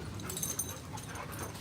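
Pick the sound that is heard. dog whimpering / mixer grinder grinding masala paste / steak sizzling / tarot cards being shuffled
dog whimpering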